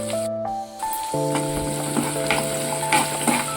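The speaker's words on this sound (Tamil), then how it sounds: "லைட்டாக வந்துட்டு வெங்காயம் வதங்கினா போதும்" Onion sautéing in a pan for a capsicum and carrot masala, a loud, close sizzle that drops out briefly near the start, then runs on continuously with intermittent stirring scrapes and faint tonal ringing.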